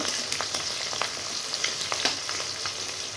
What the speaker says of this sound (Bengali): তেলটা গরম হয়ে গেছে, কাটানো পেঁয়াজ লঙ্কাগুলো দিয়ে দিব। তো নাড়াচাড়া করে ভেজে নেব